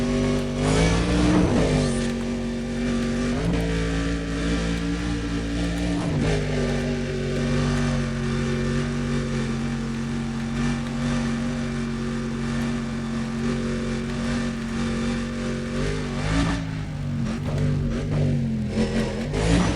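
A race car engine revs and accelerates continuously in Need for Speed: Undercover on a Pine Creek and Douglas circuit lap, loud and steady with shifting pitch through gear changes, no talking.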